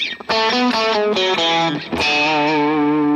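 A distorted electric guitar plays a short melodic lick of quick notes, ending on a sustained ringing note, loud and close with no talking.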